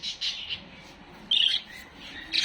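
Several lovebirds squawk in short, harsh bursts, moderately near, with quiet gaps between calls and no talking.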